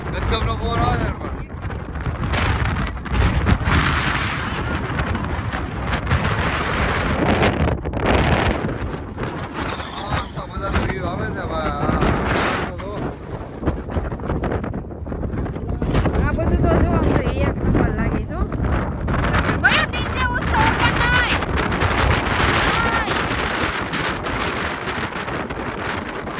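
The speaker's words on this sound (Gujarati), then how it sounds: "પવન જ એટલો આવે" Strong wind buffets the microphone during a family trip to Saputara, a loud, continuous low rumble that swells and dips across the clip, with voices talking over it at times.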